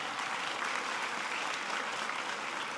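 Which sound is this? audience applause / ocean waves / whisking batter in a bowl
audience applause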